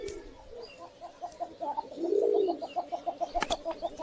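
Gobinda pigeons in a loft at Murarai coo in a steady pulsing series of soft throaty notes, with one longer swelling coo in the middle and a brief sharp knock near the end.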